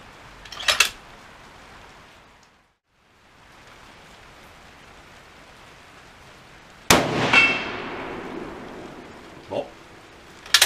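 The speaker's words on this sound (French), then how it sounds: "Allez, je tire une cartouche" A single sharp, loud rifle shot from a K31 firing a French bullet cartridge cracks out at close range after a quiet stretch, followed by a fading echo and a couple of faint clinks.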